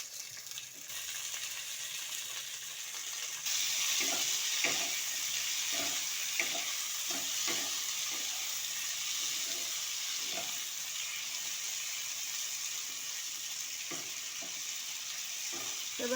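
Garlic, dried chillies and sliced tomatoes fry in a pan, giving a steady sizzle that grows louder after a few seconds, with scattered light clicks and scrapes from stirring throughout.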